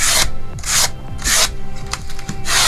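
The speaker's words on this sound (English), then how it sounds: "I'm just going to do a little bit of sanding" Sandpaper rubbing back and forth over a wooden key holder board in loud, close, rhythmic strokes, about five rasping passes with short pauses between them.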